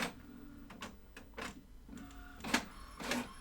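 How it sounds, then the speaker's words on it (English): Office printer at work in a noisy admin area, a series of short mechanical whirs and clicks in uneven bursts, close but fairly quiet. "yeah, you're going to hear that print"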